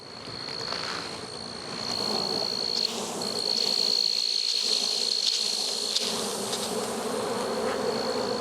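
Honey bees swarm at an open beehive frame packed with pollen, filling the air with a dense, close, continuous buzz and a high sustained drone that swells slightly partway through.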